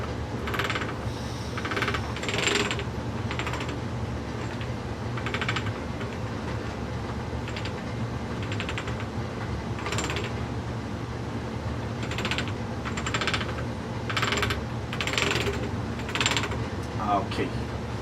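Gears in a T96 transmission turn with the governor solenoid pushed in, giving a faint mechanical whir under a series of sharp clicks and clacks from handling the parts up close, with a steady low hum beneath.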